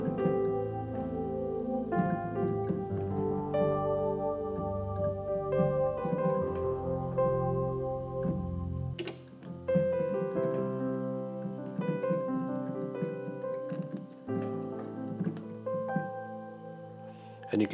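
Nord Stage 2 EX keyboard plays chords with a layered sparkle sound adding bright top end, sustained tones moving through changes at moderate volume with no voice.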